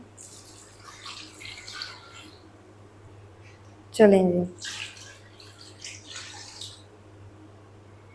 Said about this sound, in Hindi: साथ ही ऐड कर देंगे 2 लीटर पानी।